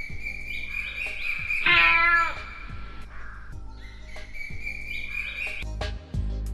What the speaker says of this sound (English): In the morning, the cat mewed.